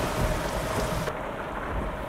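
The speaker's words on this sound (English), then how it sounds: "Rain isn't too bad." Thunderstorm rain in American Truck Simulator at night while driving a Mack truck: a steady, loud wash of rain with a deep rumble of thunder underneath, continuous throughout.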